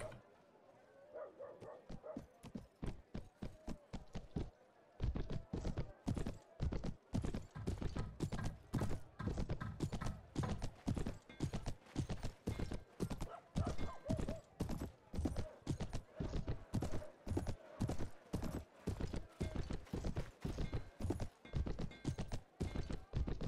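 Horse hooves clip-clopping in the video game A World of Ice and Fire, a long run of sharp, evenly spaced hoofbeats close by that starts sparse, then settles into a brisk steady trot, with a faint whinny in the background.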